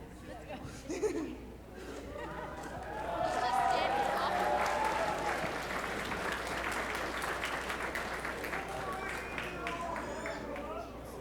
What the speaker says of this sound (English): Are they clapping for me?